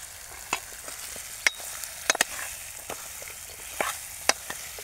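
Food is stirred in a hot pan, with scattered scraping clicks and taps of the utensil over a soft steady sizzle, close and moderately quiet.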